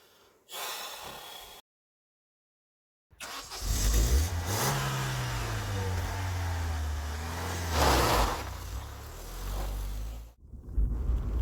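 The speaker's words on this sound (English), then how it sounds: "the road testing of this little Astra" A Vauxhall Astra Mk3 on a road test, its engine rising and revving loudly with a strong low growl that shifts pitch, broken by a brief silent gap and a sudden cut near the end.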